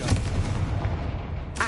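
Confringo blasting spell going off in Hogwarts Legacy, a heavy booming explosion with rumbling low end, close and loud, followed by a sharper crack near the end.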